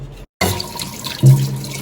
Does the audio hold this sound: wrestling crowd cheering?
no